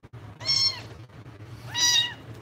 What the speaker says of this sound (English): There's only this cat in the box.